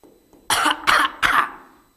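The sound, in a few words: coughing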